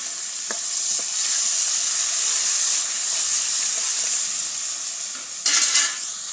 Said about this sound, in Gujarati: સરસ રીતે સાંતળી લીધું અને તેમાં આપણે આ ટમેટું પણ ઉમેરી દઈશું